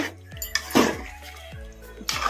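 Metal utensils scrape and clink against a pot while stirring garam masala into a handi chicken gravy, a steady rhythm, close and moderately loud, with a few sharper knocks.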